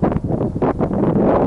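Wind buffets a microphone outdoors on a sunny day during songbird trapping, with low, rumbling gusts that swell and fade continuously, loud and close throughout.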